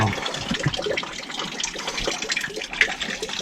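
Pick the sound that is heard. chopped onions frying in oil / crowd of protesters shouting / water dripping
water dripping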